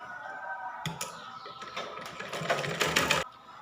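A sewing machine stitches a blouse, running in one close, whirring burst of about two and a half seconds, with quiet moments before and after and no talk.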